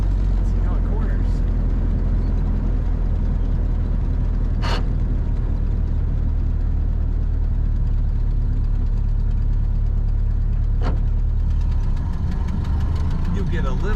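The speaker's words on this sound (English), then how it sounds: "Let's take her around the roundabout. See how it corners." A 1930 Ford Model A Deluxe Sedan's engine running steadily at low revs while the car rounds a roundabout, a loud continuous low drone with slight gear noise and a couple of brief sharp clicks, no talking.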